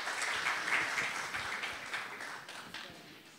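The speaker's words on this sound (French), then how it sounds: "C'est la dernière alors, on peut l'applaudir." A room of listeners claps for a student reader at a French-language recitation contest, a soft, fairly distant patter that fades gradually toward the end.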